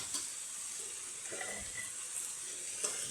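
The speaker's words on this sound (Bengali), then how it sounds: "এবার কষাতে থাকবো।" Whole green chillies sauté in a pan with a soft, steady sizzle and a few faint clinks of a utensil, quiet and close with no talking.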